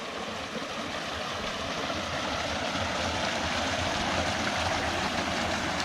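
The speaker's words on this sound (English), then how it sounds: "Little waterfall." Steady rushing water fills the scene, a constant broadband roar of a small waterfall and rapids in a stream on the Lower Hackberry Trail, Grand Staircase-Escalante, Utah, close by, with no voices.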